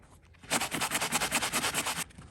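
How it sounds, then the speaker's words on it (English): A sanding block scrubs back and forth over a filled nail hole, giving about a dozen quick, even rasping strokes in a steady rhythm, close and alone. "Now I take my sanding block and I sand over it just to get it nice and smooth."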